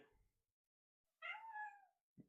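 A hungry house cat gives a single drawn-out meow, close and clear, after a brief low rustle, followed by a short soft thump.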